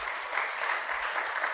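A church congregation claps together in a brief, dense burst of applause that stays loud and even throughout, with no one speaking.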